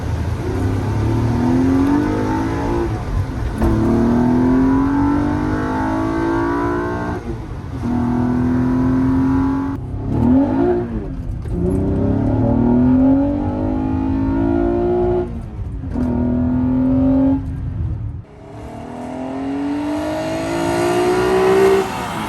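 A Toyota Camry fitted with a 2GR-FE V6 and a swapped-in manual gearbox is driven, its engine revving up through repeated gears with clear pauses at each shift, loud and steady from inside the car.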